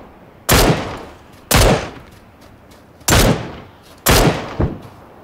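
Gunfire in PUBG, four loud, close single shots spaced about a second apart, each with a sharp crack and a short echoing tail, one followed by a softer second report.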